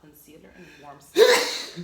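A single sharp, loud sneeze bursts out right after someone speaks quietly, close to the microphone.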